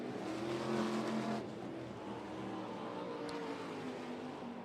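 Top Gun sprint cars racing at Volusia Speedway Park, a loud engine roar swelling as a car passes, then easing into a sustained distant drone of the pack circling the dirt oval.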